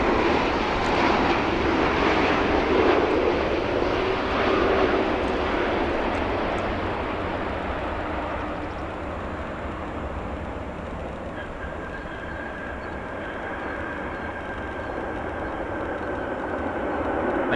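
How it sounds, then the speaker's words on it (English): A United Airlines Boeing 787 arrives from Houston at O'Hare on a busy afternoon. Its engine roar is strongest early and then fades to a quieter, steady rumble with a faint whine, with no voices. "Next arrival, the United Airlines 787 from Houston."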